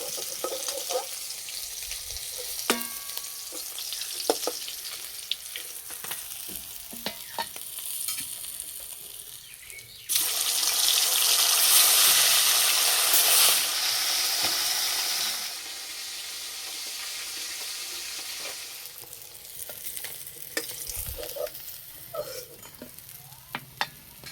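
Food frying in hot oil in a village kitchen gives a steady sizzle with scattered stirring clicks, swelling into a loud, bright hiss for several seconds midway before settling back to a gentler fry; no one speaks.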